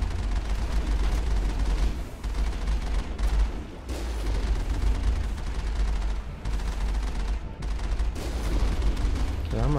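Heavy weapon fire from the Colossus main gun in the video game Mass Effect, continuous booming blasts and rumbling explosions filling the whole stretch with little pause.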